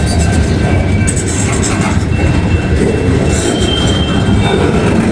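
A freight train rolling slowly through a large rail interchange, a loud, close, continuous rumble with squealing wheels and clanking cars and no pause.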